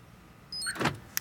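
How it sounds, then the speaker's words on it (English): A 2018 Honda Civic Type R responds to a remote start: a brief electric whir followed by a short mechanical clunk and a small click, all close and fairly quiet, without any voice. "Car is going to remote start."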